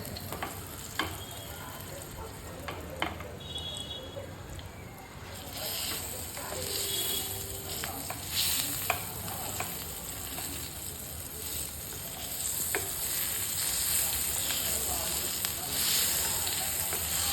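Green chillies stirred and frying in a pan for spicy Kolhapuri thecha, a steady broad sizzle with occasional utensil scrapes and clicks, fairly close and moderate in loudness, with no talk.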